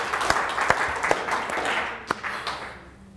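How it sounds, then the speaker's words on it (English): A lecture-hall audience at the close of a Harvard Extension class breaks into applause, many hands clapping together in a steady, moderately loud patter with a few sharper claps standing out, tapering slightly toward the end. "Well, a big round of relieved applause."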